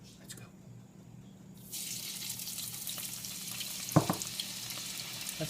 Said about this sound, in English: That's sizzling right up.